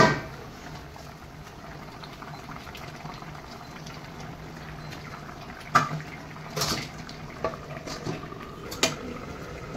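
A pot of fish curry bubbling quietly on the stove, broken later by a few sharp clanks and soft splashes as the lid comes off and fish pieces go in.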